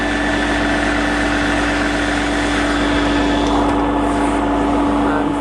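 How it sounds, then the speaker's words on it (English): An old Electrolux 502 vacuum cleaner runs steadily and loudly close by, a constant motor drone with a strong hum and a broad airy whine, with no talk over it. "Again, quite good pick up for an old vacuum cleaner."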